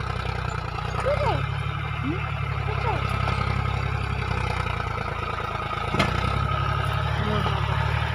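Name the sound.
tractor engine running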